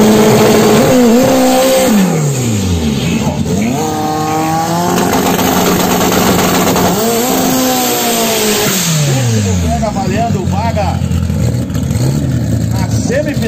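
A Volkswagen Gol GTS drag racing car roars loudly at a no-prep drag strip, its engine revving up and down through repeated rising and falling sweeps under the noise of a crowd and an announcer.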